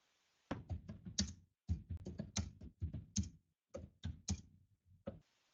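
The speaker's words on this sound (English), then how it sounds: "Someone is typing." Keys on a computer keyboard clatter in quick bursts of close, crisp taps, broken by short pauses, with no voices over the typing.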